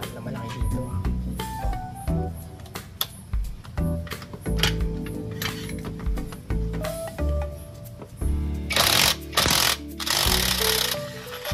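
An impact wrench works loose the nut on a CVT, loud repeated rattling hammer bursts of a second or two each, stopping and starting, with voices talking in between.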